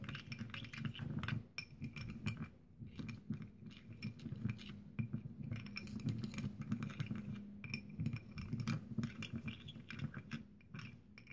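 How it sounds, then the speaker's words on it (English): Stirring a glitter mix of small hexes in a glass container, producing repeated faint clinks and rattling chinks in a continuous, irregular rhythm with no talking. "Give this a stir."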